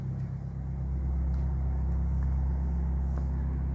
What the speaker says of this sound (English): now there's another car coming